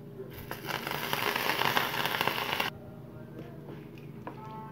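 Curry leaves dropped into hot oil for a tomato curry give a burst of dense crackling and spitting that cuts off abruptly, followed by quieter faint sizzling.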